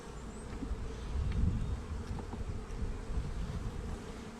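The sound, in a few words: honey bees buzzing around an open hive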